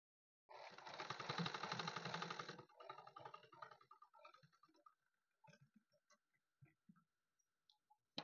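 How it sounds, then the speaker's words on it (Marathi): A sewing machine stitches around a blouse neckline, starting with a sustained close whirring run for about two seconds, then breaking into shorter, softer stitching bursts and scattered clicks as it slows, with no talk. "आता बघा आपल्याला बरोबर गळ्यावरून शिलाई करून घ्यायची आहे."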